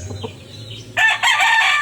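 A white Kelso chicken in a backyard flock gives a short, loud, bright call that sounds like a rooster's crow. A fainter low murmur comes first, and then the call runs for under a second.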